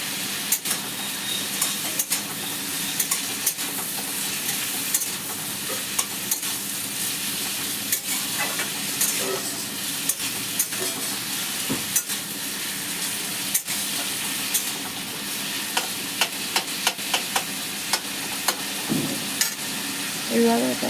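Vegetables stir-fried with salt, black cumin and green chilli for a vegetarian dish, with a steady, close sizzle running throughout under repeated sharp scrapes and clacks of a spatula against the pan.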